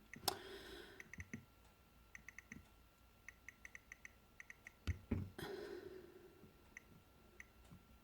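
Faint, sparse clicks come from the dial of a third-generation Nest thermostat, mostly single and double ticks spread across a quiet room.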